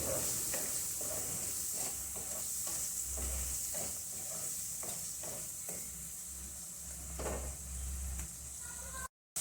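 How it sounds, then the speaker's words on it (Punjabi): Tomato masala stirred and fried in a pan for an aloo methi sabzi, with a steady sizzle throughout and repeated spoon scrapes and stirs against the pan, close and moderately loud. "ਟਮਾਟਰ ਪਾ ਕੇ ਆਪਾਂ ਚੰਗੀ ਤਰ੍ਹਾਂ ਮਸਾਲੇ ਨੂੰ ਭੁੰਨ ਲਵਾਂਗੇ"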